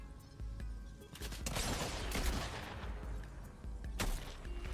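Rapid bursts of gunfire in the Fortnite video game, repeated shots in a dense fusillade with some louder cracks, set against background game noise.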